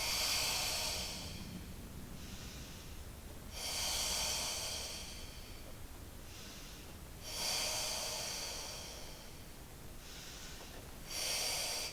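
Slow, steady breathing during a Pilates mat class: long, close, airy exhales alternate with softer inhales in an even repeating cycle, with no talking.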